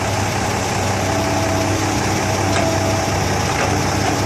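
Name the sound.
Kobelco 115SR excavator engine idling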